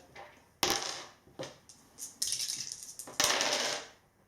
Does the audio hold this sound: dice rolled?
yes